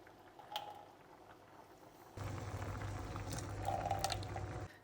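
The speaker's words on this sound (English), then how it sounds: "take some of the boiling water from the peas and add it in here too" Hot water from a pan of boiled peas is poured into a small cup of saffron for chicken biryani, a soft, close liquid trickle and splash running steadily for a few seconds after a quiet start.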